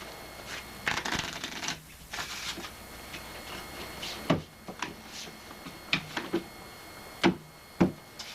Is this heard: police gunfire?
no